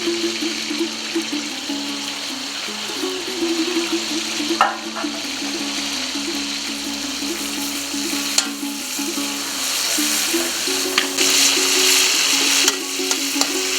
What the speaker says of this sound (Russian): Жарится наше мясо хорошо